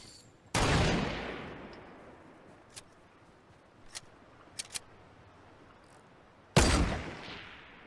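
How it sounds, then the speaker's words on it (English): Gunfire in a video game: two loud, close bursts several seconds apart, each trailing off slowly, with a few short, fainter shots scattered between them. "And gunshots going off."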